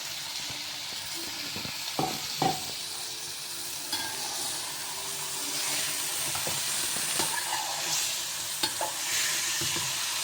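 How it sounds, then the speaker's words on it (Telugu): Chicken pieces being stirred and fried in a pan for biryani, with a steady sizzle and hiss and intermittent scraping knocks of the spoon, close and fairly loud, no talking. "ఇలా ఏమో ఫుల్ కలుపుకుంటూ ఉండాలి. ముక్క బాగా ఉడకాలి, ఉడకడం కాదు, కొంచెం ఫ్రై అవ్వాలి."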